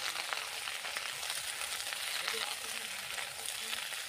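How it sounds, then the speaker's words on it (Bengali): Cabbage frying in hot oil over a high flame gives a steady, dense sizzle that runs unbroken for the whole stretch, close and even, with faint stirring scrapes and no one talking. "এবার আমি ওই তেলের মধ্যেই সব শেষে বাঁধাকপিটাকে ভেজে নিচ্ছি।"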